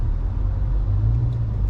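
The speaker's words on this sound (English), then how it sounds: "I have traffic backed up behind me, like you can see." Low steady rumble of idling traffic backed up on a road with several jeeps, a continuous droning engine hum heard from inside a vehicle, no voices.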